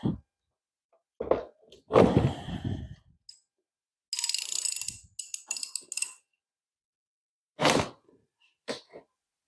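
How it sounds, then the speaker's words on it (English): Ratchet wrench working a stubborn bolt on a 331 Chrysler Firepower engine, close and loud: several separate bursts of rapid clicking and metallic scraping, with quiet gaps between the strokes. "Trick of the trade to remove stubborn bolts. Actually tighten them just a little bit if you can."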